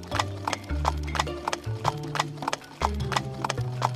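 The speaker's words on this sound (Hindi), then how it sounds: "वो एक घोड़े पर चढ़कर मंगापुर के लिए निकलता है।" A horse clip-clops along as its rider sets off, sharp rhythmic hoofbeats landing in a steady trotting pattern over a low droning bed, close and clear with no voices.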